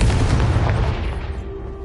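A Confringo spell blast in a game, a loud close boom with a rumbling low body that fades away over about two seconds.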